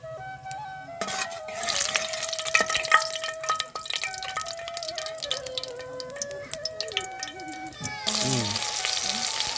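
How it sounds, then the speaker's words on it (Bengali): Nigella seeds dropped into hot oil burst into a loud, dense sizzle and crackle that fills the clip, with a few stirring scrapes and a brief surge near the end. "তেল গরম হয়ে গিয়েছে, এবার আমি এতে দিয়ে দেবো কালো জিরে ফোড়ন।"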